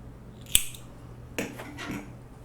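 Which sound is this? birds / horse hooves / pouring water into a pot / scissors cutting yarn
scissors cutting yarn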